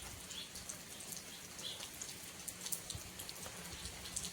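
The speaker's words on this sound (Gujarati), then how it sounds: "હાવ ઝરમર જેવું છે" Light drizzle falls outdoors near a farm, a soft, faint patter of scattered drops ticking on surfaces.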